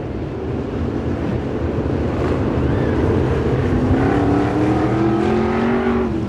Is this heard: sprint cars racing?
yes